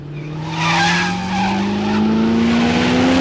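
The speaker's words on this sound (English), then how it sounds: "This is kind of a fun car chase." Car chase scene from the 1973 film Magnum Force: a loud, close, sustained tire squeal with a rising engine whine, skidding continuously for about three seconds before cutting off.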